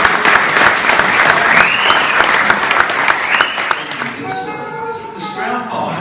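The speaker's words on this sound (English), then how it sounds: "let's just give that a round of applause" Crowd at a Duke Kahanamoku centenary celebration in Australia gives a round of applause, thick continuous clapping that fades out after about four seconds as a voice begins speaking.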